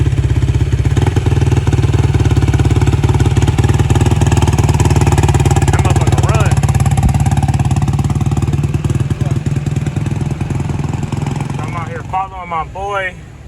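A Honda XR50 dirt bike engine runs at a steady, loud, close idle with a buzzing mechanical drone. People talk over it near the end as the engine fades slightly.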